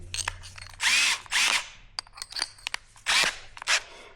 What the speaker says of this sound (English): This is the rim lock hole. I'm gonna drill it.